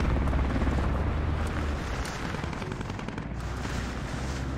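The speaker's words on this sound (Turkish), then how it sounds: "Manyak helikopter uçuyor ama" Helicopter in the military shooter game Squad, a dense continuous rotor roar with low thumping that stays loud and steady throughout, mixed with a broad rumble and no talking.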